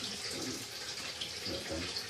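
Water dribbling and trickling from a bath overflow, a steady close, soft running-water sound that carries on throughout with no talking.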